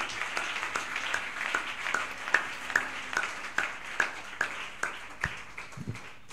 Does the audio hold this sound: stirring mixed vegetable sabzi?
no